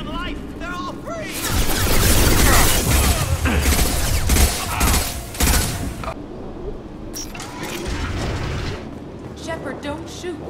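Gunfire and crashing combat noise in the Mass Effect Legendary Edition game, loud and dense for the first six seconds, then lighter bursts, with voices talking over the action.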